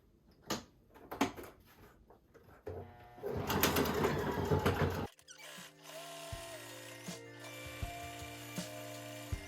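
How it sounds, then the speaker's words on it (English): Sewing machine running a zigzag stitch along the edge of a denim apron made from jeans, a faint steady mechanical hum in the latter half, preceded by scattered handling clicks and a brief rustling burst. "I'm going to do a single zigzag stitch along the perimeter of the whole thing just to keep it from fraying too much"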